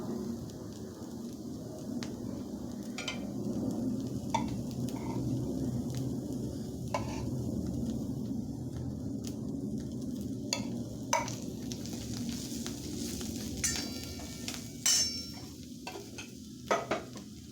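Ghee sizzling in a pan for dal-rice while a spoon stirs, a soft steady frying hiss under repeated scraping strokes and a few light metal taps, close and with no talk.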